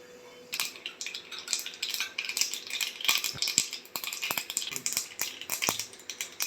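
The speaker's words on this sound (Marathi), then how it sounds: "मोहरी छान फुटली आहे," Mustard seeds crackle and pop in hot oil in a pan. Sharp, irregular pops come thick and fast over a steady sizzle, close and fairly loud.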